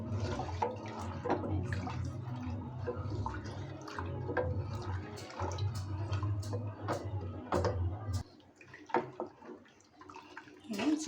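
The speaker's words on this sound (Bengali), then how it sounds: "আমি স্যুপের প্যাকেটটা আমি এক এক করে এটাতে ঢেলে দিব। এটা একটু নাড়ার মধ্যে রাখতে হবে, না জমে যায়।" Packet soup being stirred into boiling water in a pot, with continuous bubbling, sloshing and clinking of the spoon close by, quietening near the end.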